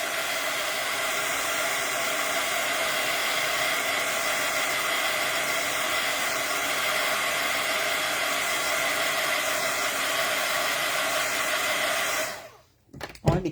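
A hair dryer blows steadily and close for about twelve seconds, a constant airy roar, then clicks off abruptly, leaving brief faint handling noise.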